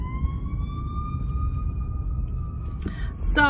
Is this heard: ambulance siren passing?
yes